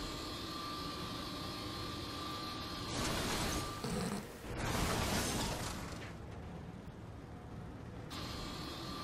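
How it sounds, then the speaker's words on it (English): A helicopter in the Saints Row 3 video game sweeps past with a loud whooshing engine roar that swells for a few seconds over steady game ambience, with no talk. "Chopper."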